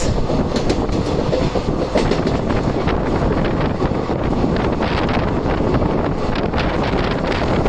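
Train 17663 on the Raichur to Secunderabad run, a loud continuous rumble of wheels on rails with rhythmic clatter and heavy wind buffeting the microphone throughout.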